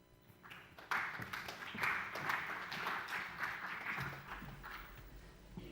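Audience applause after a talk on Pacific Islands place-based climate financing, a steady moderate wash of clapping from a seated crowd that starts abruptly and continues throughout.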